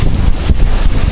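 Strong sea wind buffets the microphone on the water off Limasawa Island, a loud, rough low-pitched rumble with gusty pulses over about a second, with no talk.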